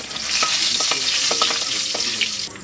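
Green chillies dropped into hot oil in a pan: a loud, close, hissing sizzle that holds steady, with scattered sharp crackles and spits rising through it.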